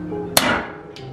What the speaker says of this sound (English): I'm gonna whack this baby with a hammer, and hopefully it just pushes the axle out